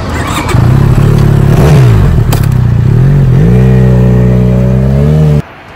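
A Benelli Leoncino 500cc twin-cylinder motorcycle engine revs loudly and close, rising and falling in pitch through several throttle blips before holding a steady high rev, then cutting off abruptly near the end.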